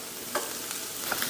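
Garlic sautéing in a pan for pancit canton gives a steady soft sizzle, with a few brief stirring scrapes and clicks over about a second.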